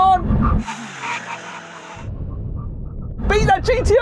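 A car brakes hard in a drag race and its tires screech in a long sustained squeal, with engine rumble and excited voices before and after.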